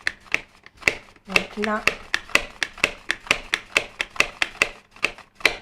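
Vegetables, cucumber among them, are sliced paper-thin on a small kitchen mandoline, giving a steady run of crisp, evenly spaced close-up slicing strokes while someone speaks briefly in French.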